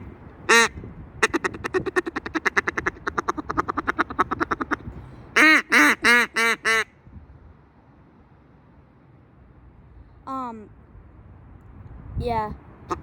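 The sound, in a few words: duck call imitating a duck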